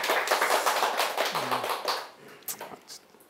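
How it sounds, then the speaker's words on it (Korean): A small church gathering claps to encourage a visiting member. Brisk clapping starts full and close, then tapers into a few separate claps as it dies down. "박수로 격려했으면 좋겠습니다."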